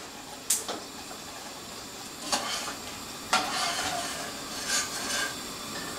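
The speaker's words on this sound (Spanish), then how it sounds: "Vamos tratando de macerar un poco acá nuestros tomaticos y ya vamos viendo la consistencia que tiene" Tomatoes are mashed in a hot pan for salsa: a soft sizzle runs under a few sharp scraping, pressing strokes that come irregularly, close up.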